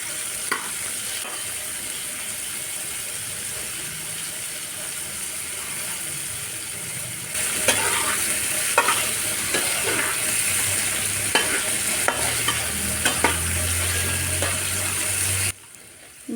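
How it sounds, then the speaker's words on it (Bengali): Shrimp frying in hot oil with turmeric and salt, a steady close sizzle that grows louder partway through, broken by scattered scraping clicks of stirring before cutting off near the end. "তেল মোটামুটি গরম হয়ে এসেছে। এখন দিয়ে দিচ্ছি চিংড়ি মাছ।"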